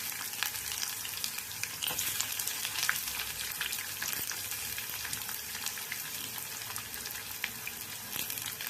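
Finely chopped onions sizzle and crackle steadily in hot oil for lemon rice, with occasional scraping stirs, close and continuous, no voices.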